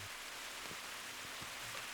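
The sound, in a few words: heavy rain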